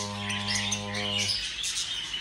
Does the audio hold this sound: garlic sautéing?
no